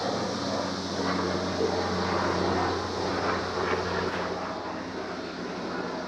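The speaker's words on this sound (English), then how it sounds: "Helicopters and cicadas." A helicopter flies overhead, a steady, loud, continuous engine drone that fills the whole stretch, with cicadas buzzing alongside in the background and no one speaking.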